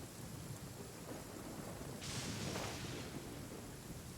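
Rain and thunder in the Genshin Impact video game: a constant hiss of heavy rainfall with a low thunder rumble swelling midway, no voices over it.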